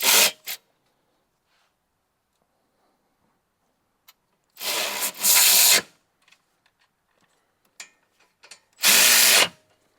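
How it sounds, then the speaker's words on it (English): Ratcheting wrench torquing caliper bolts on an 8th-gen 2006-2011 Honda Civic during a wheel bearing job, in a few short bursts of clicking with quiet gaps between them. "the caliper bolts are torqued down to 79 pound-feet"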